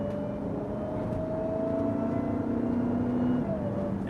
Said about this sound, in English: You hear the whine?